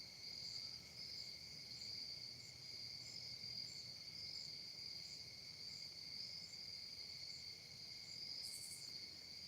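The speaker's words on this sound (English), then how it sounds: "can you guys hear all the crickets?" Crickets chirp steadily in a dense, continuous chorus on a night outdoors beside a fall bonfire, faint and even throughout with no talk.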